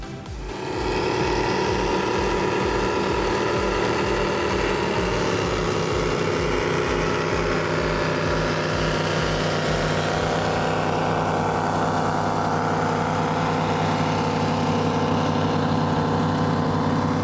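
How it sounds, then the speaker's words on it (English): Triple Mercury Racing outboard engines on a Scarab powerboat roar continuously and loudly, a deep throbbing drone that builds and holds steady throughout. "I know you guys wanted to hear those engines rip and roar."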